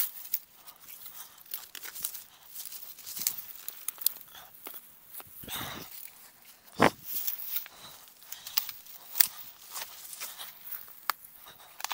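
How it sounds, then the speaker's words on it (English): A plastic bag crinkles and rustles in irregular bursts, with a few sharper tearing crackles, close by and without speech. "I'll bag it in a plastic bag and throw it away."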